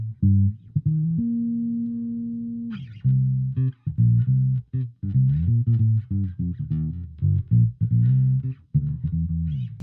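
A clean electric guitar tone running through a pedal: a sustained note, then a run of plucked single notes and short chords, close and clear with no distortion, played alone.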